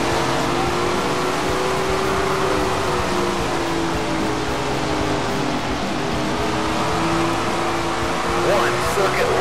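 Race car engine at full throttle in a video game at a Chili Bowl dirt-track race, a loud continuous drone with pitch slowly rising and falling, running beneath a voice talking throughout.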